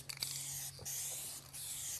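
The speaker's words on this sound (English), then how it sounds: "When spraying the color, or really any paint, hold the can 8 to 10 inches from the surface" A DupliColor spray can hisses a colour coat onto a truck panel in three short, close bursts separated by brief pauses.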